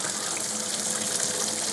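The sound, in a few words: water running from a tap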